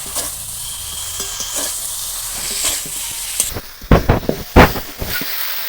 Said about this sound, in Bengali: এখানে হাফ সেদ্ধ করে ভেজে রাখা ফুলকপি আর আলুটা দিয়ে দেবো এবার এটা একটু কষিয়ে নেব